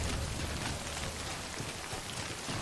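Steady rain falls in the video game Death Stranding, a faint, even hiss of drops with no talk.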